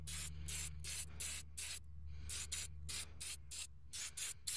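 An aerosol can sprays paint onto truck wheels in about a dozen short bursts, each lasting about a quarter second. The hissing is close and rhythmic, with brief gaps between bursts and a low hum underneath.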